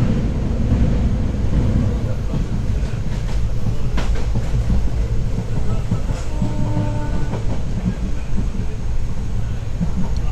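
Salem to Yesvanthpur unreserved express train rolling along the tracks, heard as a loud, continuous rumble from on board with rhythmic clickety-clack wheel beats and occasional metallic squeals.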